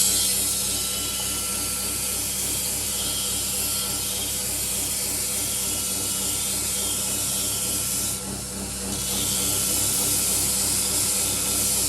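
An angle grinder or belt grinder roars steadily and loudly as it grinds the bevels on a steel sword blade, with a brief dip near the end before the grinding resumes at full level.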